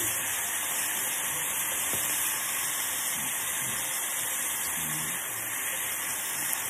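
Carne asada beef sizzling as it browns in a pan for fajitas, a steady, loud, dense hiss that carries on without a break.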